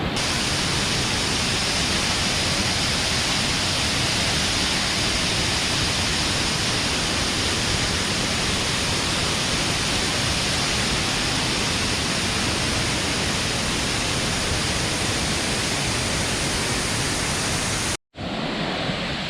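Badigunta waterfall near Akuru, Rampachodavaram, with water rushing down into a deep valley gorge: a loud, steady roar with no voices, cut off briefly near the end.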